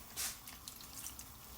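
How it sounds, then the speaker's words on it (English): A splash of about 50 ml of water goes into a pan of Thai green curry, a short pouring trickle up close followed by a few soft drips and bubbling squishes. "I might just pop a tiny bit of water in, literally 50 mils of water"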